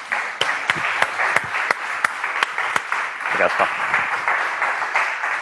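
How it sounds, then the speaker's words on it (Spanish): Applause from an audience at a school's course presentation, a steady bed of clapping with distinct sharp claps standing out near the front, while a speaker talks briefly over it. "Un aplauso, por favor."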